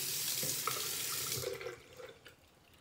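Tap water runs into a sink while an item is rinsed under it, a close, steady splashing rush that thins and breaks into softer trickles toward the end.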